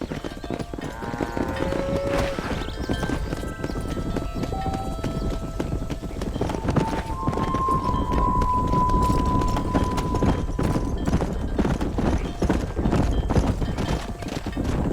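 Steady clip-clop of horse hooves in the Western game Red Dead Redemption while driving cattle, a continuous trotting rhythm with a horse whinny and music tones over it, and voices calling out at times.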